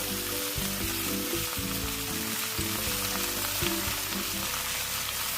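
Mango pieces sizzle in a pan while being cooked down for a sweet mango pickle, a dense, even frying hiss that runs steadily from start to finish; a low tonal hum sits underneath.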